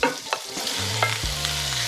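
Shrimp go into a hot pan of garlic that is turning golden: a brief stir and clatter, then a steady, close sizzle of frying that holds to the end.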